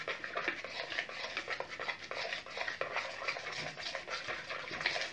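Homemade slime ingredients being stirred and mixed, a quiet continuous scraping and squishing with irregular soft ticks and clicks throughout.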